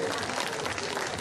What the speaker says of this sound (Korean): 여러분 다시 한번 큰 박수 보내주시면 고맙겠습니다